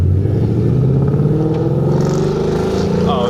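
A 2016 Mustang GT V8 fitted with long-tube headers and an MBRP exhaust revs up loudly and close, a deep throaty rumble climbing steadily in pitch across the clip with a brief higher whine near the end.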